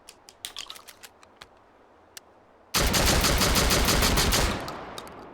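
A semi-automatic shotgun with an internal magazine fires in a video game, a dense, loud blast of sustained gunfire after a stretch of quiet mechanical clicks and handling noises.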